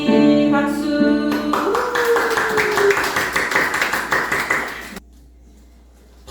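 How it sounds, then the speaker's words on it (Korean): Rhythmic clapping from a church congregation at Sunday worship pulses steadily over sustained music, stopping abruptly as the music ends. "박수."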